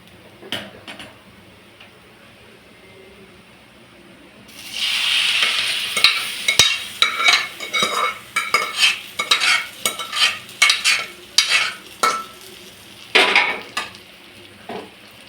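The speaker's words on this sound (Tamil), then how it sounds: "இப்போ ரவை தேங்காய் நல்லா மிக்ஸ் ஆகிடுச்சு, நல்லா வறுத்தாச்சு" Semolina and grated coconut being stirred and roasted in a pan for ukkarai (sukhdi): a quiet start, then from about four seconds a steady low sizzle with repeated sharp scraping strokes of a spoon against the pan, close and fairly loud, with no talking.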